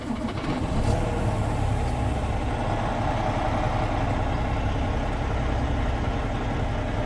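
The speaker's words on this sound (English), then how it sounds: "And then start the truck." A large diesel truck engine rumbles at a steady idle nearby, a constant low drone after a brief start at the beginning.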